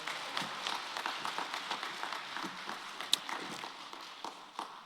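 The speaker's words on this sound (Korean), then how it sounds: "우리 박수 한번 함께 하겠습니다" An audience at a church retreat gathering gives a soft, diffuse round of applause, distant and low in level, with a few sharper claps standing out.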